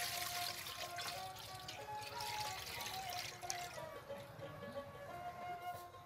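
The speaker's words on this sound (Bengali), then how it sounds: "এখানে আমি একটা পাতিল নিয়েছি তো সেখানে আমি আগে জল দিয়ে দিচ্ছি।" Water poured into a cooking pot while making rice-flour bora, a steady splashing, trickling flow that runs continuously and fairly close, gradually thinning toward the end, with no one speaking.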